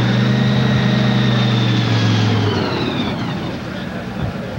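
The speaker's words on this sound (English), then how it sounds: "you have just witnessed the starting of the most powerful funny car engine in drag racing history" A Funny Car drag racing engine at the 1989 NHRA US Nationals starts and settles into a loud, deep, steady roar with strong low rumble, easing slightly toward the end.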